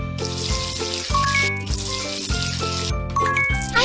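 Water splashes and trickles as a kitten's paws are rinsed in a cat day care video game, with bright chimes and tinkling game sounds layered over a continuous music backing.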